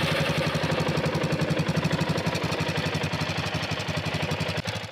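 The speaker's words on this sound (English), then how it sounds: "let's start it and listen to this marvelous engine voice." A Suzuki DR-Z400's single-cylinder 400cc engine idles through its stock muffler, a steady, fairly quiet, evenly pulsing thump held close and alone with no talk, the beat faltering briefly near the end.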